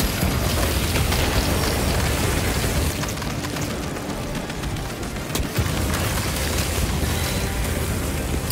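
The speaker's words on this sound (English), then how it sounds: "Using crack grenade." A crack grenade goes off in Warhammer 40,000 Space Marine 2, a loud, dense rumbling blast that fills the whole clip, with a heavy roar that dips briefly partway through before surging on.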